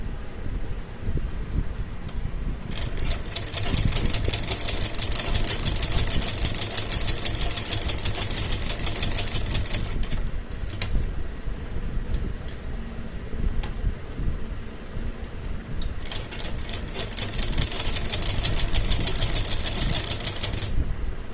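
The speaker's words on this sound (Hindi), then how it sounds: "तो आप ऐसे बिल्कुल कपड़े को खींचते हुए इसके साथ अटैच करेंगे और सिलाई लगाते जाएंगे।" A sewing machine stitches fabric onto a kurti with a steady, rapid mechanical whirr and clatter that runs in long continuous bursts, briefly slowing near the middle, close and prominent with no talking.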